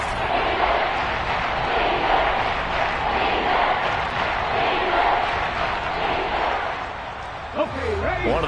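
Stadium crowd at a football game building into a steady, loud roar ahead of a big third down, with broadcast commentary faintly over it near the end.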